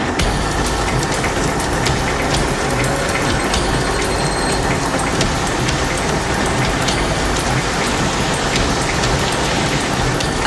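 Heavy rain drumming steadily on a truck during a drive, a dense, loud, unbroken hiss with a low engine rumble underneath and no talking.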